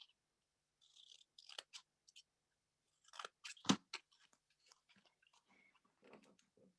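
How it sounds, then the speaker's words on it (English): Scissors make quiet, close snips in scattered bursts while cutting out small paper petals for a Valentine's Day card. "I'm just going to cut out all the little"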